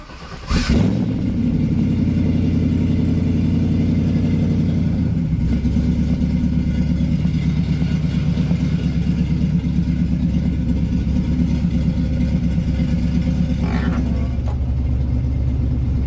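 A Pontiac Trans Am engine cranks and catches after new fuel pump wiring, then settles into a loud, steady, close rumbling idle that drops slightly in pitch partway through and keeps running.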